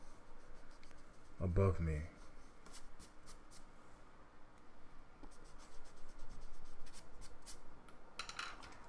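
A pencil scratches along a ruler, drawing perspective lines toward a vanishing point. Soft, steady scraping strokes run close and quiet under a person talking, with a louder rub near the start.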